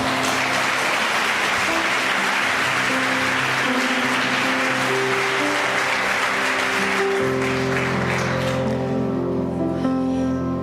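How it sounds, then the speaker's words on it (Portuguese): A church congregation applauds during a sermon, with dense continuous clapping throughout and sustained musical tones underneath; the clapping thins near the end as the music carries on. "Então aplauda o Senhor."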